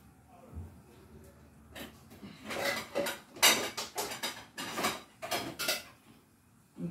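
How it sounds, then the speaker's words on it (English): A cooking pan is handled and set down while making chicken dinner, with a run of clanks and scrapes of metal cookware and utensils in the middle and end, close and moderately loud, with no talk. "I'm gonna use this pan I have here"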